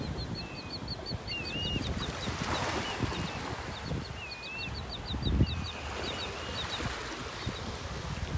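Birds on a beach during a morning walk: repeated high chirps and whistling calls sound over a steady wash of surf and wind, with no talking.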